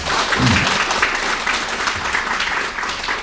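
A hall full of people claps steadily at a community New Year greeting gathering in Anyang 8-dong, celebrating the neighborhood's newborn children; the dense, even applause carries on without a break for a few seconds.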